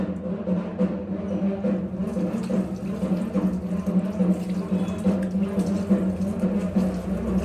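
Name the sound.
water running from kitchen tap while washing face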